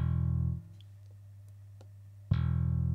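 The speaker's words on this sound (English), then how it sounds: "the bass that I used for this was Moto Bass by IK Multimedia" A deep synth bass note from IK Multimedia Moto Bass with reverb sustains, cuts off into near-silence with faint clicks, then returns loud and full on a new note.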